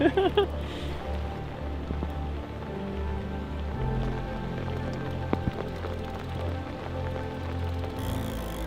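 Steady rain patters on a hard surface throughout at a carp fishing venue, with a low rumbling hum underneath and a few scattered knocks.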